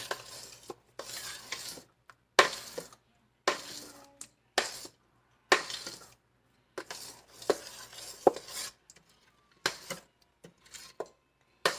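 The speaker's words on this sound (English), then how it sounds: "we're going to stir all of this up" A spoon stirring strawberry banana habanero jelly in a pot over medium heat, scraping and clinking in repeated separate bursts with short quiet gaps, close and fairly faint.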